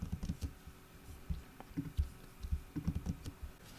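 Fingers type quickly on a computer keyboard, producing a close, uneven patter of soft clicks and key thumps in short flurries with no voices.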